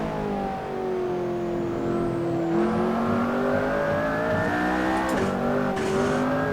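A McLaren P1 engine in Assetto Corsa revs loudly and continuously, its pitch slowly sliding down and then climbing through gear changes, with faint tyre noise underneath and nobody speaking.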